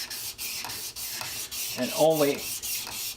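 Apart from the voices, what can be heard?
plane blade cap rubbed on sharpening stone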